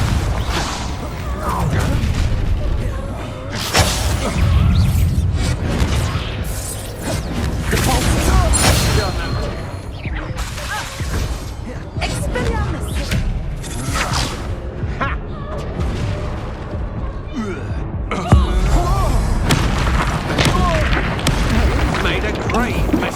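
Confringo blasting spells in Hogwarts Legacy during a busy fight, with repeated whooshes, booms and crashing impacts over layered game sounds, while voices shout spells and taunts throughout.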